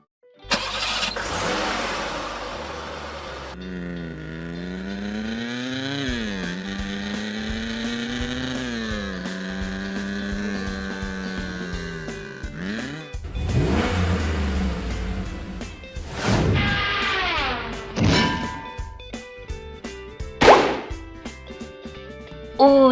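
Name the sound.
Hot Wheels toy cars popping balloons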